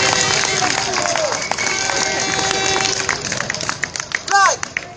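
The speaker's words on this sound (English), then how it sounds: "Round of applause for Kaz, everyone, please." Audience applause at an outdoor rally against child abuse: a steady patter of clapping from the crowd with chatter and voices mixed in, fading toward the end.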